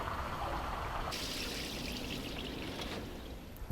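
Water pours and trickles steadily out of a plastic boat, a continuous splashing stream that brightens partway through and carries on to the end, with no voices.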